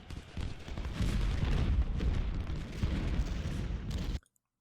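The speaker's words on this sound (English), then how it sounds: "Snipers keep firing." Distant gunfire and booming artillery rumble from a Civil War battle in the video game Ultimate General: Civil War, with rifle volleys cracking in a steady barrage before cutting off abruptly.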